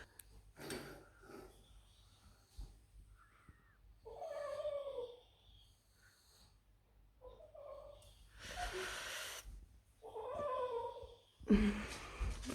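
Several cats cry and meow indoors in a quiet room, with scattered plaintive meows, some drawn out, others short, a few loud and close, separated by breathy pauses.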